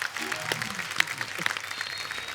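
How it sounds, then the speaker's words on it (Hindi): Studio audience applause on The Kapil Sharma Show for Huma and Saqib, a brief burst of crowd clapping with a few sharp claps standing out while a voice talks over it. "एक बार जोरदार तालियां हुमा और साकिब के लिए।"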